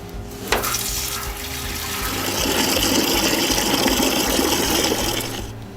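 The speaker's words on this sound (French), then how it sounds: "on va se servir de ce jet directement dans la machine. On appuie ici." A water jet runs from a Trittico Executive Evo machine during cleaning: a strong, continuous rushing spray that starts with a sharp onset, swells and holds steady, then eases slightly near the end, close and loud with no talking.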